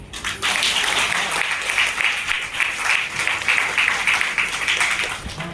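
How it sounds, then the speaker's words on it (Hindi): A seated audience at a business seminar breaks into loud, sustained applause, the dense clapping rising quickly and holding steady for several seconds. "सर लोगों को ताली तो बजा दो"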